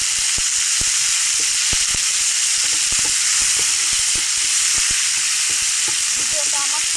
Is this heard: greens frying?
yes